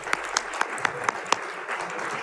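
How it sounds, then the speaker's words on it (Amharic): Applause at a live Ethiopian dinner-evening event, praising the MC: scattered claps with a few sharp, distinct hand strikes standing out at the start, settling into a fuller, steady patter of clapping from the crowd. "ደመቅ ያለ ጭብጨባ አድርጉልን።"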